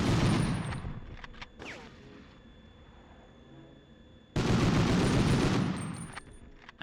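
Handgun fire in the Medal of Honor game: a loud opening volley of shots, a quieter gap with a few scattered sounds, then another dense burst of firing near the end.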